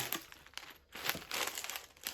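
Plastic Lego packet crinkling during an unboxing, a run of close, dry crackles with a short pause in the middle before the rustling resumes, loud and alone.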